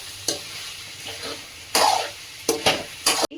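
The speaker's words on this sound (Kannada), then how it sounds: "ಈಗ ಚಿಕನ್ ಬೇಯ್ತಾ ಐತೆ." Chicken for ghee roast cooking in a pan, a steady sizzle broken by several loud scraping stirs of a spatula, close up, with no voices.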